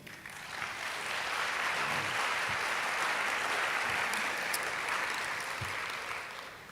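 Audience applause fills the room after a poetry performance, a steady wash of many hands clapping that swells in, holds evenly for several seconds, then tapers slightly at the end.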